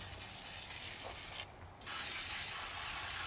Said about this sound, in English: We're going to spray just like the head down with some gunk engine degreaser.